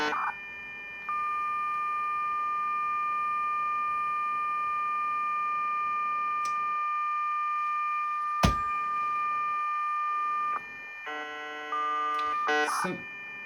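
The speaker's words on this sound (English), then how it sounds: "Sounds like a fax machine now more than an internet connection." Steady electronic dial-up modem tones hum for several seconds, then a burst of rapidly changing warbling beeps near the end, like a fax machine connecting.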